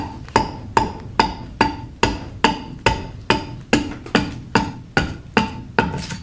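An adze hewing a walnut bowl from a log, striking about fifteen evenly spaced, sharp chopping blows in a steady rhythm, close and fairly loud with no talk.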